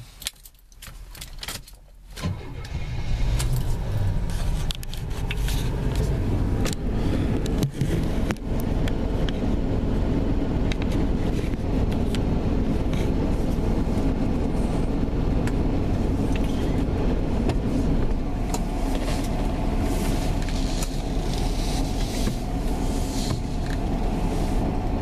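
An Oldsmobile Cutlass Cruiser station wagon starts up at night and pulls away, its engine settling into a steady, loud rumble with road noise as it drives, following a brief clatter of keys at the start.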